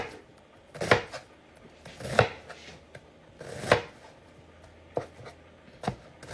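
Broccoli is chopped on a board with a knife in slow, irregular strokes, about six distinct close knocks spread apart, with quiet pauses between them.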